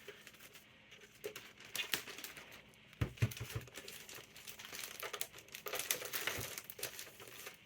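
Adhesive strip peeled off a shipping package while boxing a Sony PlayStation 2 Fat bundle, heard as quiet crinkling and tearing plastic with scattered crackles and a sharper pull around the middle, no talking.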